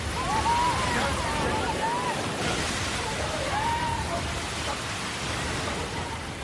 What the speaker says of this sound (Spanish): sobre el estadio más antiguo de los Estados Unidos cae una lluvia torrencial.